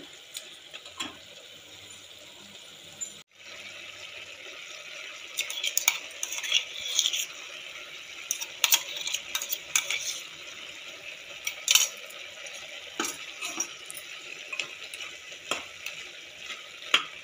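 Turmeric and ginger garlic paste fry for a mutton drumstick curry, a soft sizzle beneath repeated metallic scrapes and clinks of a spoon against the pan.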